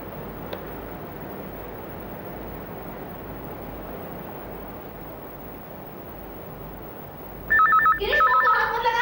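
A telephone bell rings near the end, a loud rapid trilling burst that cuts in after a long stretch of quiet, low background hum.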